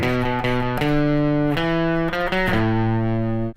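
A heavily distorted electric guitar plays a short riff from a rock song, sustained, buzzing notes that shift pitch, close and loud, without any talking.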